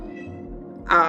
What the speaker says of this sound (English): You probably hear my cat in the background.